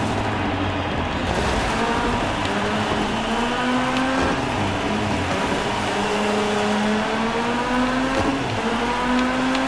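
A rally car in the DIRT 5 racing game roars steadily, its engine note rising and falling through gear changes as it drives on, loud and continuous with no talk over it.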